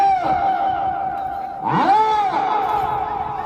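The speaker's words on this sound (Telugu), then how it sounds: "కేకలు కేకలు" Shouting and cheering from a crowd at a bullock race, with a prolonged voiced cry rising over the steady din partway through, loud and close.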